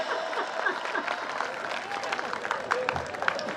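Applause at a Hindi kavi sammelan poetry gathering: dense clapping from the audience carries through the whole stretch, with scattered voices and cheers mixed in.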